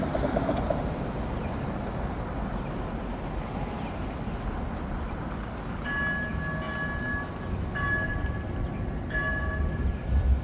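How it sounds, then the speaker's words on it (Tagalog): A train runs near Calgary City Hall on a daytime city walk, a broad rumble of rail traffic under street noise, with bell-like tones ringing out in short bursts in the later seconds. "Tapos may train doon."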